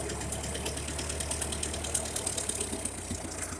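A Ferguson TO-35 tractor engine with a newly replaced carburetor and a leaking exhaust gasket runs steadily up close, a continuous mechanical clatter with rapid ticking pulses throughout.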